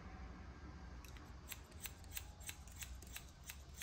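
Scissors snipping through long hair during a barber's cut, a quick run of crisp metallic snips repeating steadily at close range with no talking.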